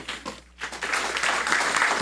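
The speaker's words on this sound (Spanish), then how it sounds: "Vamos a darle un aplauso aquí a" Applause for Juan at a bilingual church service starts in scattered claps, dips briefly, then swells into fuller, denser clapping from the congregation.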